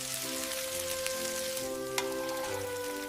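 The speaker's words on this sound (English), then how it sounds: "Our veggie patty is ready. Listen to that sizzle." Steady crackling sizzle of a miniature veggie patty frying in a tiny hot pan, a dense hiss with faint pops throughout, close and continuous.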